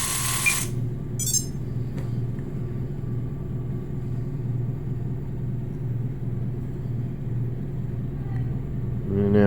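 Small motor on an RC helicopter project runs with a bad bearing, holding a steady low rumbling drone with a faint periodic wobble, close and continuous, briefly joined by sharper whining bursts near the start and end.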